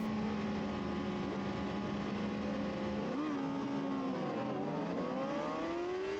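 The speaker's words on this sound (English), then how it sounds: "I simultaneously release the clutch and open the throttle at the same time" A motorcycle at a race start, clutch released with the throttle opened for the launch: steady engine drone that rises in pitch as the bike pulls away, loud and continuous with no talk.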